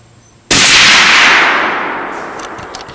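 A single sharp, very loud crack from a Christensen Arms .300 Win Mag rifle, followed by a long decaying echo rolling away across open ground.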